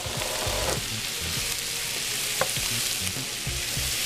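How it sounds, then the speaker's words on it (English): Saltfish sautéing with black pepper in a pan for Jamaican ackee and saltfish, a steady close sizzle with light crackles and occasional stirring scrapes. "So I want to get all of this sauteed nicely, and I want the flavor to come out"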